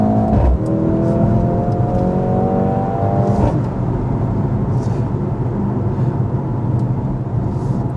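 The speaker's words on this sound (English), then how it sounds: "full throttle and see how it goes going down the road" A 2025 Mercedes-AMG GLC 63 SUV accelerates hard at full throttle on a road, its engine note rising through the gears with a brief shift break, then a steady loud roar with road and wind noise inside the cabin.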